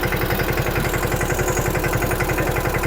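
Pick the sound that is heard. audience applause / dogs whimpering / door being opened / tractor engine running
tractor engine running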